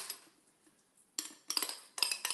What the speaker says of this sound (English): And now I'm gonna mix my egg whites.